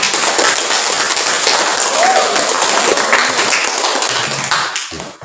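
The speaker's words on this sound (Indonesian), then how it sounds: "Untuk kelompok 2 tepuk tangan" Group applause in a classroom, many hands clapping together as a dense, steady patter at close range, holding for several seconds before tapering off at the end, with no talk over it.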